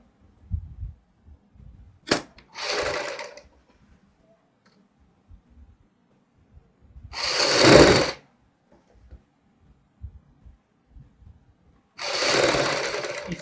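A sewing machine runs short stitching bursts while a rib strip is attached to a sherwani, with three brief runs separated by long quiet pauses and faint handling taps.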